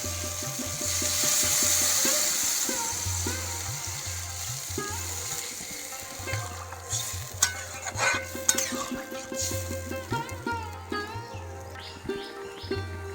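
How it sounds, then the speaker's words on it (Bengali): A pan of spice paste, already fried down for a koi fish curry, bubbles and sizzles after water goes in, with steady frying hiss and scattered clinks of stirring that grow busier toward the end; no talk. "কষানো হয়ে গেছে, এবার জল দিয়ে দেব।"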